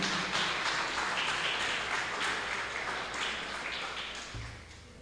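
Church congregation applauds during a worship service, a broad, sustained burst of many hands clapping together that fades slightly toward the end.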